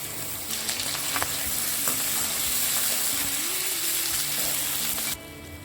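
Tomatoes and boiled potatoes roast on a high flame for sabudana khichdi, giving a steady dense sizzle with occasional stirring scrapes throughout, ending with a brief quieter moment.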